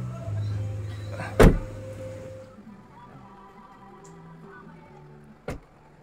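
Door of a 4WD Kia Bongo 3 fitted with a canopy and loaded accessories, one loud sharp thud early, then quieter rattling and a second brief knock later, close by.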